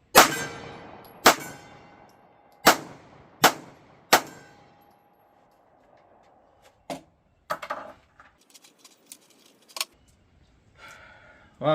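A Ruger Max-9 pistol fitted with a red dot optic fires a quick string of sharp, loud shots at a range, followed by scattered clanks and handling noises.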